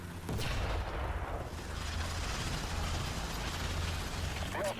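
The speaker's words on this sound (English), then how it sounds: "So like here, my artillery loads up." A tank gun reloading in a World of Tanks-style game: a steady mechanical ratcheting and clanking churns continuously against low rumble, starting after a short sharp onset and holding at moderate loudness.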